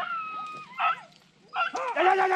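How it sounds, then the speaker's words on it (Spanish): A hunting dog barking out on a rabbit hunt with galgos and other hounds, a few short yelps and whimpering barks, fairly near, broken by pauses, with a voice faintly in the background. "Ese es la Yola que está ladrando ahora."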